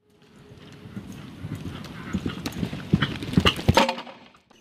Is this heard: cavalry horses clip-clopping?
yes